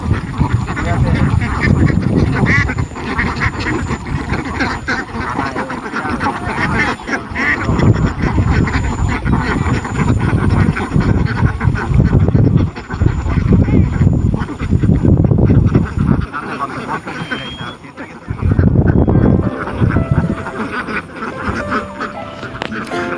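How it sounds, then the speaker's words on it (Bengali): Dense flock of ducks on a duck farm beside a wetland, heard from a boat, quacking nonstop in a loud, continuous chorus with a few brief lulls; voices talk over it at times. "হাজার হাজার হাঁস এখানে ডাকাডাকি করতেছে"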